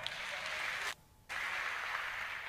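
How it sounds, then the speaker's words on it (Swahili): Applause for a church choir, a steady wash of clapping from a crowd that stops abruptly for a short moment and then resumes just as dense. "wapigeni makofi kwaya"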